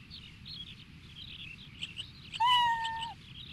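A cat meows once, brief and fairly clear, in the Inuyasha video game The Secret of the Cursed Mask, over a low steady background hum and faint high game tones.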